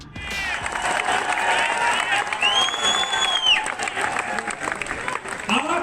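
Applause from a large audience at a speech in the city of Mahakal, loud and continuous broadband clapping with crowd noise and a few whistles or cheers rising over it, no speech on top.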